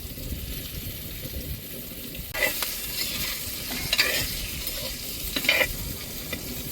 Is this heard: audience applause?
no